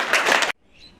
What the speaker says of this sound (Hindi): तो जोरदार ताली बजाइए आप लोग